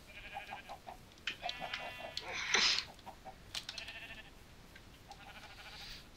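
Sheep bleat repeatedly in a Minecraft survival game, short harmonic calls recurring throughout at moderate volume, with faint game background sounds between them.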